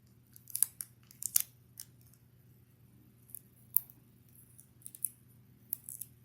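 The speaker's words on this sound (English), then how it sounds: "take your scissors and cut the tape in half to create two smaller stickies" Scissors snipping through double-sided sticky tape for a craft project, a few short crisp cuts spaced irregularly, near and quiet against a low steady room hum.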